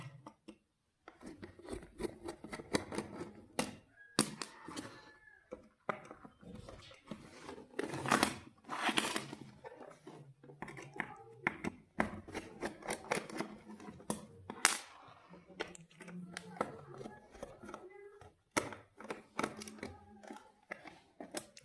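Four screws are unscrewed from a DVD BLDC motor, heard as close, sharp metallic clicks, taps and scraping handling noises scattered irregularly over about twenty seconds with quiet gaps between them.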